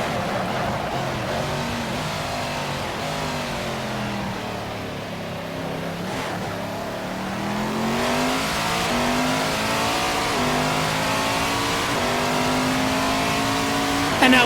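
A race car engine in the video game Assetto Corsa revs and accelerates steadily, its pitch rising and falling through gear changes as it builds to a loud, sustained high-revving drone, with no talking.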